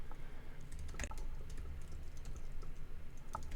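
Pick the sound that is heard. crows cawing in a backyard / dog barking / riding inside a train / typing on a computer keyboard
typing on a computer keyboard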